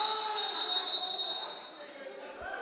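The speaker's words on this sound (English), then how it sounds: "the whistle was blown just before" A referee's whistle blown during an indoor lacrosse game, a shrill sustained blast for about a second and a half over arena crowd noise, with faint talk beneath.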